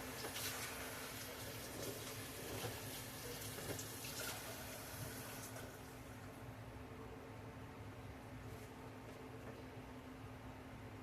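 Water runs steadily from a tap into a sink while a whole chicken is washed, a continuous hiss with faint splashing and handling sounds, fairly quiet with no talking.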